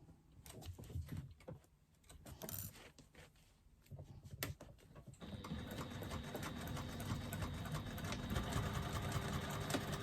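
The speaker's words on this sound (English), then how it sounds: "I'm going to stitch across that corner using a 3/8 of an inch seam allowance" A sewing machine stitches across a fabric corner with a 3/8 inch seam allowance. There are a few short stop-start bursts of whirring, then a louder, steady run of motor hum that lasts through the second half.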